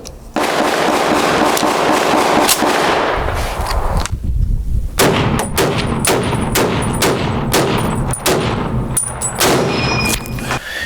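An M1 Garand semi-automatic rifle fires a rapid series of loud, close, cracking shots with echoing reports, sometimes overlapping, across the whole stretch.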